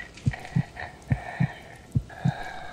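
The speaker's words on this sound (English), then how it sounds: "You'll hear your heartbeat go up." A heartbeat plays in the horror video game Outlast Trials, six thudding double beats in a steady, quickening rhythm over a low hum, with no voices.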